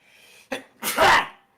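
A single sharp sneeze, preceded by a short breathy intake, close and loud, with no talking.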